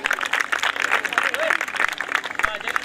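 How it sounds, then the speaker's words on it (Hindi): Dense, continuous clapping from an audience at a Christian church gathering, filling the whole stretch at steady loudness with a faint murmur of voices mixed in. "आपकी भरपूर तालियों में।"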